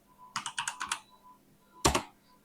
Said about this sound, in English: To enter data, simply click on a cell and start typing.